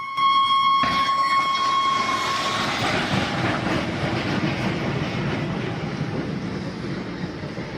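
A train horn blares at the start, then a heavy train rumbles past close by with loud, continuous rolling clatter.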